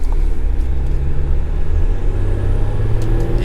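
A RAM truck with a throttle booster in drive mode accelerates, giving a loud, steady engine rumble from inside the cab, with pitch rising slightly as it goes.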